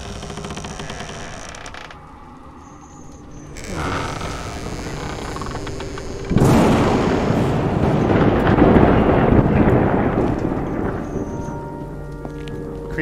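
Thunder rolling during a lightning storm in The Dark Occult, a deep rumble swelling midway and then a loud, sustained crash over steady rain noise.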